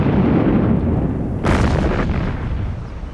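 Massed artillery cannons and mortars of the World War I Ludendorff Offensive fire along the front, a loud, dense rumbling barrage with a sharper burst midway, heard alone without speech.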